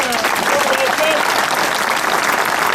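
A crowd at an outdoor patriotic flag rally in Şile claps loudly and steadily, a thick continuous wall of applause with a few whistles cutting through.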